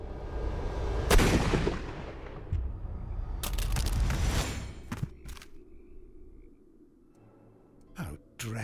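Sharp gunshots from a Sherlock Holmes: Crimes & Punishments scene ring out, a loud blast early on and a few more reports later, each with a short decaying tail, while a voice talks in between.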